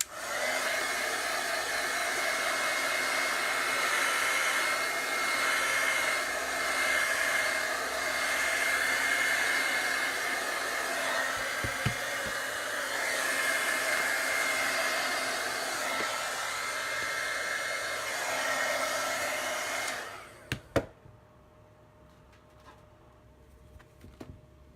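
A hair dryer blows steadily at close range over a Chalk Couture chalk craft project for about twenty seconds with a continuous airy whir, then switches off, leaving a few faint clicks and handling sounds.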